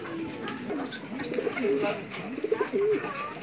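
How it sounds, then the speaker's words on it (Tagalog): A pigeon coos softly in a few repeated low rolling calls, with faint background noise around it. "So ito yung isang kalapati nga napapakita ko sa inyo."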